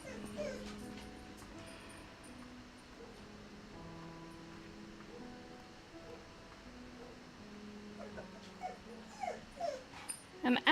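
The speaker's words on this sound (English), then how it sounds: "I'm gonna let my dog out." A pet dog whimpers and yips in repeated high, wavering whines, some near and some softer, against low background game music, with sharper yips building toward the end.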